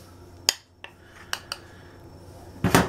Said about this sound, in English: Stir that around like that.